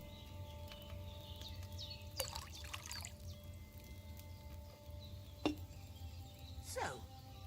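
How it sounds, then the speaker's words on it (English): Wine poured from a pitcher into a cauldron in Kingdom Come: Deliverance 2, a faint trickling pour under quiet ambient hum, with a few brief clinks and knocks along the way. "First, you have to pour the right base into the cauldron."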